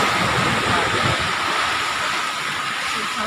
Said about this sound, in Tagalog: Bumabalik yung alon paano oh.